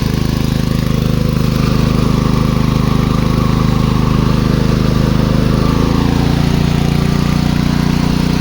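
A Zegor DIN-OPEN 3500 inverter generator powers an electric kettle, its engine droning steadily and loudly throughout, with a slight shift in pitch partway through as the load changes.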